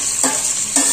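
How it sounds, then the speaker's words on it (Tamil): Onions fry in hot oil for chicken biryani, a close, continuous hissing sizzle broken by two short scraping stirs. "வெங்காயம் நல்லா அந்த எண்ணெயெல்லாம் வதங்க விடும்."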